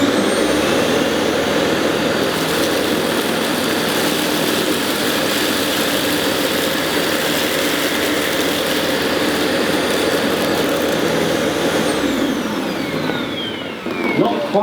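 Dyson Light Ball upright vacuum cleaner running steadily, a loud continuous motor whir and suction roar close by, winding down near the end.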